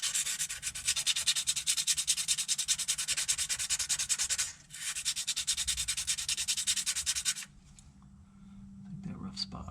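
Rust is sanded off the outside of a 1995 International DT466 truck engine part with rapid rhythmic back-and-forth scraping strokes, close and steady, briefly pausing midway and then stopping near the end.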